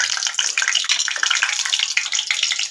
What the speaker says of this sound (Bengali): পেঁয়াজ কাঁচা লঙ্কা দিয়ে দিলাম